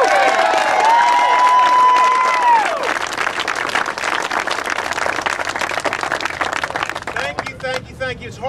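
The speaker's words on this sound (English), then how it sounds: "Let's have a round of applause for Robert." Crowd applause and cheering at an outdoor Albemarle GOP rally in a park, dense clapping rolling on after a brief electronic whistle-like tone at the start, loud and sustained before tapering off.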